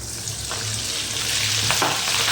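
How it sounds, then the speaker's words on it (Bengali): Salted basmati rice grains dropped into hot oil fry with a continuous, dense sizzle close by, steady and unbroken throughout. "এই চালগুলো একটু ভালো করে নাড়াচাড়া করে ভেজে নিতে হবে"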